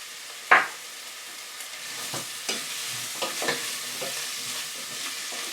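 Vegetables seasoned with salt and pepper fry in a pan for a tomato soup, opening with a sharp utensil clank, then a soft sizzle broken by several scraping stirs.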